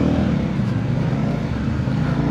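A Benda LFC700 motorcycle engine idles and pulls in first gear in wet weather, a loud, steady low rumble with a fluttering throb that stays close and continuous with no talk.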